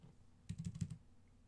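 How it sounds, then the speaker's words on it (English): A short, quiet run of about six quick keystrokes on a keyboard, typing into OneNote on a Boox Tab Mini C tablet, soft and close with no voices. "Let's try just typing in the body"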